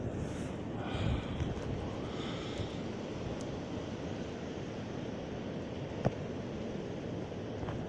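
High wind storm gusts roar steadily across an open area near Rochester, NY, with snow blowing, a broad continuous rush buffeting the microphone and a few brief louder gusts, with no voices.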